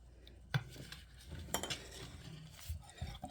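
A spoon stirs a garlic paste mixture in a bowl, making faint scraping and a few light clinks against the side, quiet and close with no voices.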